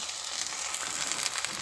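Rump steak sizzles in a hot pan, a soft, continuous crackling hiss with fine popping, faint and even throughout the short stretch.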